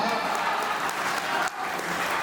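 Audience at a Hindi comic poetry gathering applauding, a dense steady wash of clapping filling the whole moment at close range with no gaps.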